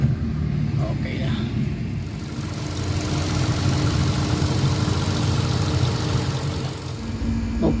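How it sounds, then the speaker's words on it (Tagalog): A misfiring Hyundai Accent gas engine idles with a continuous rough rumble and uneven vibration, with loud exhaust noise close by. Someone talks over it throughout. "nanginginig yung kanyang engine at saka yung kanyang exhaust pipe, talagang maingay."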